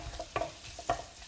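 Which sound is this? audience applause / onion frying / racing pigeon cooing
onion frying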